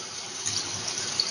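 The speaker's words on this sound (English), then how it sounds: "we would add a little bit of water" Water pours in a steady, soft splashing stream, close and alone, with no talking.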